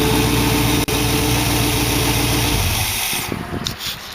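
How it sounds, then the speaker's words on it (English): A 1914 Dual Quad car engine idles steadily just after starting, a loud, even low rumble close by that fades toward the end, where a few faint knocks are heard. "at least it's starting up good and idling good"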